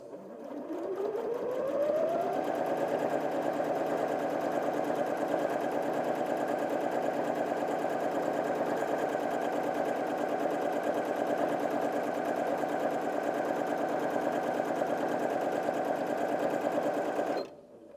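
A Janome M50 QDC sewing machine stitching through fabric, spinning up from a start and then running at a steady, even whirring speed for about fifteen seconds, loud and close, with no talk.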